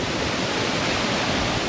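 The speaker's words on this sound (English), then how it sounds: "This is Black Rock Falls and it is cranking." Black Rock Falls in the Kimberley thunders in full flow, a steady, dense roar of falling water that fills the air continuously and loudly with no breaks and no voices.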